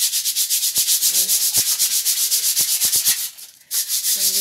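Steady back-and-forth sanding strokes rasp against a surface in a fast, even rhythm, close and loud, with a few brief knocks and a short pause near the end.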